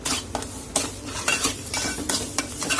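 Spoon stirring mango pulp into semolina shira in a pan, producing a steady scraping and mixing sound with soft sizzles and occasional utensil knocks, close up and without talk.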